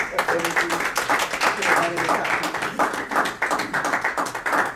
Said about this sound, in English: Please applaud him for everything